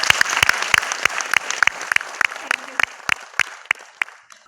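An audience at a networking business event applauds, a fairly close burst of crisp, rhythmic clapping that fades out after a few seconds.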